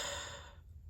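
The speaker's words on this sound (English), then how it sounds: "why am I yawning?" A single soft yawn from a person, a brief breathy exhale that fades out quickly, quiet and close.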